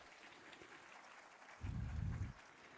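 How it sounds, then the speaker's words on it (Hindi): A short burst of audience applause breaks out in a Lucknow auditorium during a government key-distribution ceremony, rising suddenly after quiet room tone, lasting under a second, then stopping. "एक बार जोरदार तालियां"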